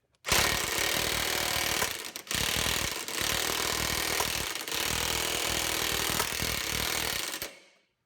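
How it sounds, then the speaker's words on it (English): An impact wrench rattles loudly in several sustained bursts with brief pauses between them, a harsh hammering buzz up close on a Chevrolet Silverado U-joint before stopping abruptly. "Alright, just going to impact this and see how it goes."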